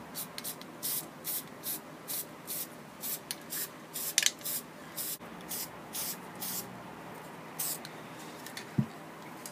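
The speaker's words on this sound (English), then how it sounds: "I'm going to use some marsh spray ink" Short hissing bursts of spray ink from an aerosol can, applied lightly in a quick irregular rhythm onto a routed wooden Christmas sign, faint and close, with a brief knock partway through.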